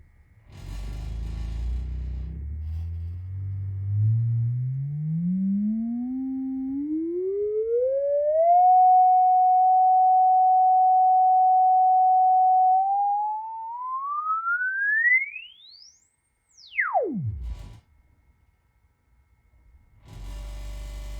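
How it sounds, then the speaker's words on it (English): Sine wave frequency sweep on a Sundown Audio SA8 v2 subwoofer with a rebuilt cone assembly: a pure tone climbs smoothly from deep bass, holds a steady pitch, then rises fast and cuts off, loud and alone. "Let's turn down the volume a bit and do a sweep."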